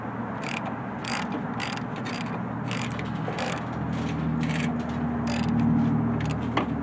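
On the front end of a Chevy Silverado, a ratcheting wrench snugs up the nuts in quick bursts of close, rapid clicking, with short pauses between strokes and a faint mechanical hum underneath.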